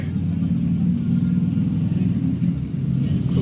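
A bus engine rumbles steadily as heard from inside the moving vehicle, a low, constant drone with slight fluctuations throughout, close and fairly loud.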